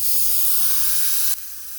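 An airbrush sprays anthraquinone blue paint in a steady, close, airy hiss that holds even, then drops abruptly to a softer hiss near the end.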